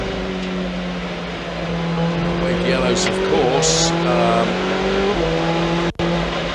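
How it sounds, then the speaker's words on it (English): Ferrari Challenge race cars lapping the Monza circuit, heard from an onboard camera as a loud, steady high engine drone with gear shifts and pitch changes, under a commentator's talk. "So the rest of the cars are making their way around the track."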